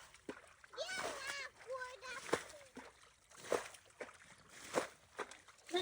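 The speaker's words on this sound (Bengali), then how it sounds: "দেখতেই পাচ্ছেন আমরা এখানে সেচ কাজ করছি।" Pond water splashes again and again as people bail it out by hand to catch fish in a village. Bursts of splashing and sloshing come in a rough rhythm while children and adults talk nearby.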